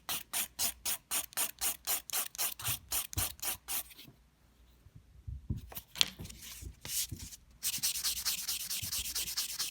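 Rhythmic back-and-forth strokes of a nail file shaping a sculpted gel stiletto nail, close and steady at first, pausing to a few faint scrapes midway, then resuming as continuous rasping.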